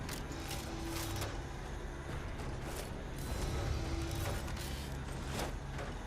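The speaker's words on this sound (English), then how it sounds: "Reloading." Weapon reloading in the sci-fi video game StarRupture, a steady run of mechanical clicks and ratcheting over a continuous game soundscape with a low hum, moderately loud and without talk.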